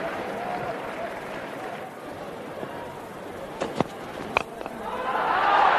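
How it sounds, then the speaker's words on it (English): Crowd applause at a Bangladesh vs Sri Lanka Asia Cup 2018 cricket match: a steady, distant wash of clapping and cheering, with a few sharper bursts near the middle and a swell toward the end. "Applause there from the crowd."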